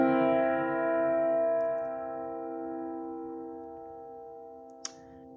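A C dominant seventh chord on piano, struck once and left ringing alone, its sustained tones slowly decaying, with a faint click near the end.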